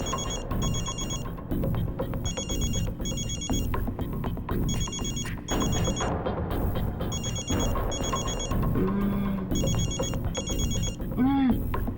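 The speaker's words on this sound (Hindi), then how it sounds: "तारिका फोन क्यों नहीं उठा रही?" A telephone rings over and over in short repeating bursts, unanswered, during a tense scene in a Hindi crime drama. Dense background music and other sounds sit underneath it.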